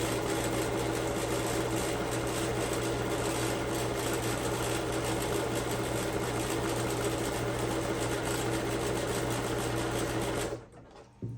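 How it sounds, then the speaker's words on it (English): A sewing machine runs steadily, zigzag-stitching along the edges of a cotton pillowcase, a continuous close whirring hum with a fast mechanical rattle that stops abruptly near the end. "But I'm using a zigzag stitch around my edges."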